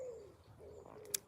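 A bird calls outdoors with a soft, low cooing like a dove, faint and somewhat distant over quiet ambience, ending with a brief sharp chirp.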